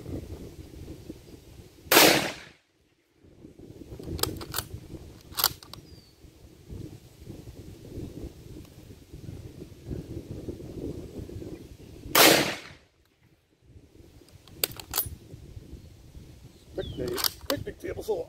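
M1903 Springfield rifle firing at a range, two sharp loud gunshots spaced about ten seconds apart, with someone talking between them and some handling clicks.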